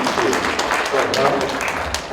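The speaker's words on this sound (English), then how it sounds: "Let's give him a hand of applause for being here." An audience at a business talk applauds a guest speaker, a dense, steady wash of clapping from many hands throughout, with voices mixed in.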